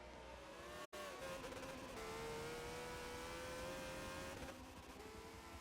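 A 1960s Formula 1 race car in a racing video game at Road America drones with a steady, high engine note, holding pitch with slight shifts through a corner, continuous and fairly quiet throughout, with no talk.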